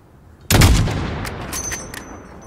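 A single sharp, loud sniper rifle shot at a 400-metre rooftop target in Call of Duty: Modern Warfare (2019), a sudden crack followed by a decaying rumbling echo.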